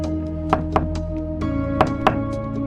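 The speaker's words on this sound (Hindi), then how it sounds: "तभी अचानक एक दिन उसके दरवाजे पर दस्तक हुई।" About five sharp knocks on a door land irregularly over a sustained musical drone. They are clear, moderately loud and spaced apart, with no voices heard.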